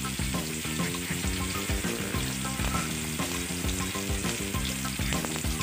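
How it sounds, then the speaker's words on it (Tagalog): Chicken feet frying in a pan for coconut-milk adobo, a loud continuous sizzle with repeated scraping strokes as the pieces are stirred, close up and with no talking. "Halu-haluin lang natin hanggang sa magpantay-pantay na yung luto nila."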